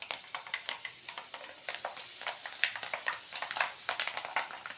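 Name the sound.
fenugreek seeds frying in oil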